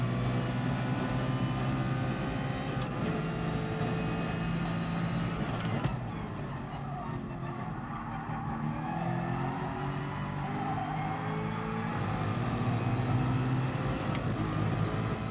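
A race car engine in the GT Sport racing game holds a steady, loud drone, its pitch dipping and climbing slightly as the car runs in a slipstream.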